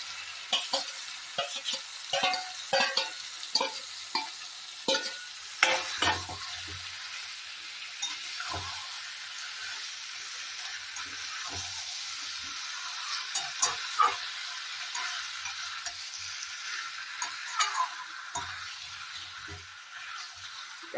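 Jackfruit and fried potatoes sautéing with mutton liver in a pan: a constant sizzling hiss broken by frequent scraping stirs and clattering spoon knocks, close and fairly loud, with no talking.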